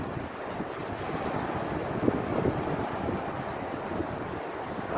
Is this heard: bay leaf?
no